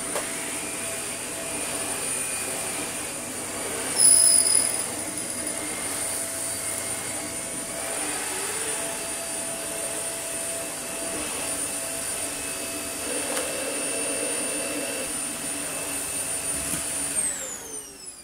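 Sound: Dyson UP22 vacuum cleaner running, strange noise from floor head

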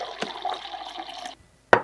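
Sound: water dispensing from a refrigerator water fountain

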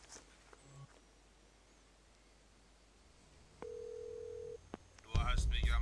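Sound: telephone call dialing in Phantasmagoria 2 video game

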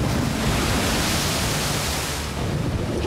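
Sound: strong wind and waves at sea before a storm

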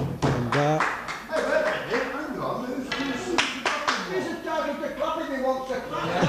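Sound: people clapping at a snooker match

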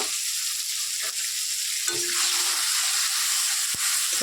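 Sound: spices frying with tomato in a pan

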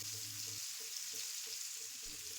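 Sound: sliced onion and green chillies frying with black cumin in oil

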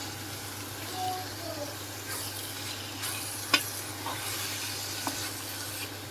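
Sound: tomatoes, green chillies and garlic added to frying pan

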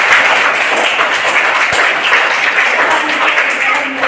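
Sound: children clapping hands in a classroom

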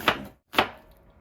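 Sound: chopping food with a knife

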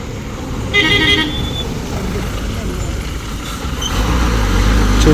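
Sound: bus approaching with horn toot

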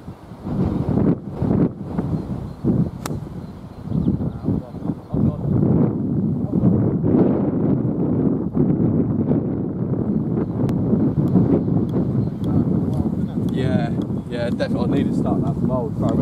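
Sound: wind blowing across the golf course

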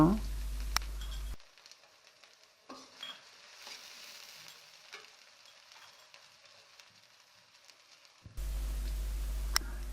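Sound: chopped onions frying in hot mustard oil in a kadai

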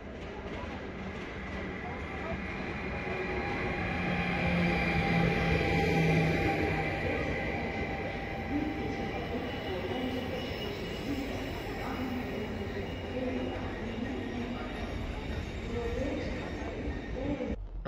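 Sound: train running, heading toward Hengelo

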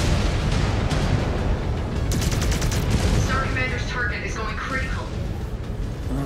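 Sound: mech weapon fire in MechWarrior 5 video game

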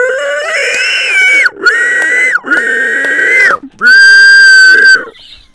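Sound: person imitating a pig

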